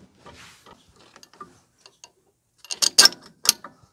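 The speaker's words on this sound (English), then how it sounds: "Put that bolt in there." Metal clicks and ratcheting clatter as a bolt is fitted and tightened on a Kioti CK261 compact tractor while installing a third function valve kit, quiet scattered taps first, then a louder burst of close ratchet clicks.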